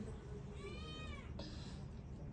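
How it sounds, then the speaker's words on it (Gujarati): A cat gives a single drawn-out meow while being given milk, fairly faint over a low steady background rumble. "ફટાફટ મીંદડાને દૂધ પાઈ દઈએ"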